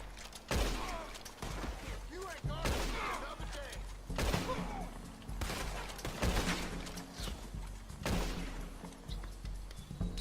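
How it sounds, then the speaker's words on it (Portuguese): A gunfight in the video game Red Dead Redemption 2 plays out as repeated sharp gunshot bursts and impacts at irregular intervals, with a steady game soundtrack underneath. "Começou o tiroteio então"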